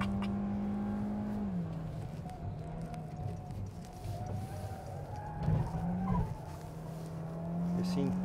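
A Peugeot 2008 drives a fast lap on a track with a steady engine drone that dips and climbs through the corners. Tyre noise swells mid-lap, and people talk over the quiet onboard sound.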